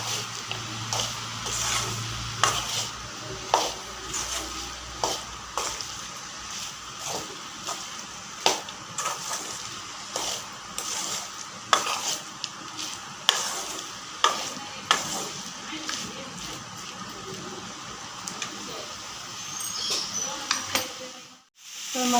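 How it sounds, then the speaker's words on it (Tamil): Mushrooms sautéing in a pan for mushroom kulambu, a steady close sizzle with repeated scraping stirs every second or two, ending in sudden quiet. "நல்லா ஒரு 2 நிமிஷம் நல்லா அந்த மஷ்ரூமை நல்லா வதக்கி எடுத்துக்கோங்க."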